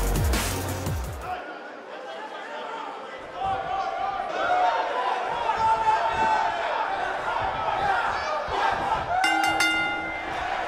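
Video game wrestling crowd in WWE 2K19 before an NXT tag team match, a steady roar of cheering and chanting under commentators' voices, with a sharp burst at the start and rising shouts later.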